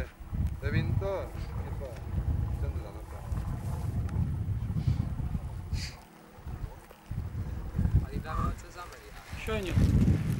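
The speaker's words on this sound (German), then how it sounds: "Der Wind da." Strong outdoor wind buffets the microphone at a junior road cycling race, a rough gusty roar with dips and surges under scattered talk.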